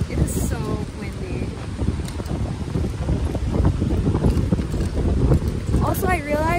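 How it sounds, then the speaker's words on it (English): Strong wind buffets the microphone in a loud, continuous roar with gusty swells, and a few faint bird-like chirps come through. "It is so windy."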